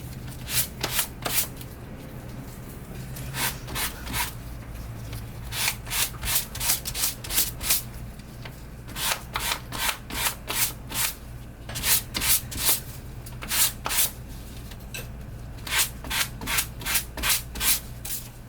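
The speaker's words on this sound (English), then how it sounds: "We're going to use a piece of sandpaper." Sandpaper rubs back and forth across a painted elephant figure in quick bursts of scratchy strokes, pausing between runs, close and fairly loud.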